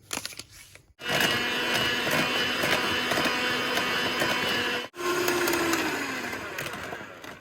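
Electric mixer whisking egg yolks with sugar for eclair batter, a loud steady whir starting after a brief quiet moment, cutting out once and restarting, with rattling beaters against the bowl.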